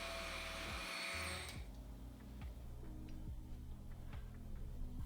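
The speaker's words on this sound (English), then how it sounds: "Blend until creamy and smooth." A blender whirs through an almond milk, cacao powder and peanut butter smoothie bowl mix, starting with a high motor whine that drops into a lower, steady churning with periodic ticking knocks, fairly quiet overall.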